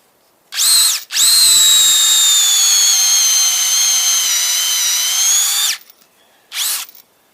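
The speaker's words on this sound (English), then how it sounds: "We'll just do this, drill a hole." A power drill bores a hole into a tree trunk for spring sap tapping: a short burst, then a long steady whine of about four seconds, then another brief burst, up close with no talking.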